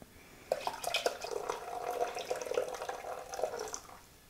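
A soft, steady trickle of malt beer pouring into a Thermomix TM6, faint and close, with a few small splashy drips.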